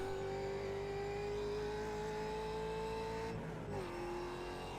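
A Ford Mustang FR500S race car engine in the iRacing video game holds a steady high whine, dipping briefly as it shifts or brakes near the end, then climbing again; loud and continuous.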